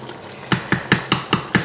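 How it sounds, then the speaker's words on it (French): Veal paupiettes cooking gently in a pan, a soft bubbling simmer punctuated by six evenly spaced clinks or scrapes, close and fairly loud. "on va laisser cuire nos paupiètes de veau tranquillement"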